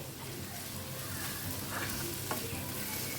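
Salted chopped tomato masala for Goan stuffed squid is stirred in a pan, giving a close, continuous sizzle with soft scraping strokes.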